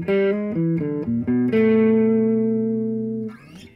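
Blues turnaround on guitar in E, a lick of short descending notes that resolves into a long, slowly fading chord, with a brief scrape at the end and no talking.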